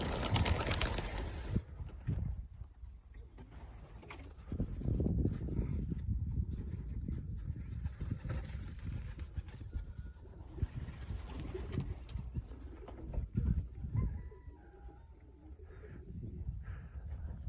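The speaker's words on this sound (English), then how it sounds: "Watch some of the old birds fly." Pigeons coo and flutter outdoors on a sunny, cool, calm day as the old birds are let out to fly, with soft wingbeats and calls over a steady low background.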